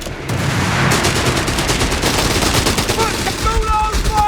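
Continuous rapid gunfire and machine-gun bursts in the World War II strategy game Company of Heroes 3, loud and dense throughout, with faint tonal game sounds near the end.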